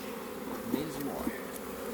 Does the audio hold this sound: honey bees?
yes